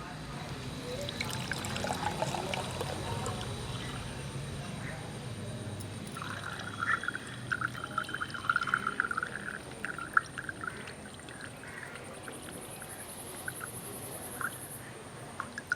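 Soaked horse gram water, turned brown, pours and trickles steadily through a strainer, a continuous splashing stream with faint background voices at the start.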